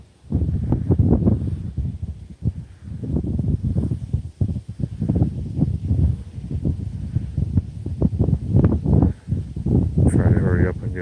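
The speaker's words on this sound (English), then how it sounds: "Wind is really gusty at times." Gusty outdoor wind buffeting the microphone in strong, uneven rumbling blasts that rise and fall across the clip, with a voice faintly mixed in.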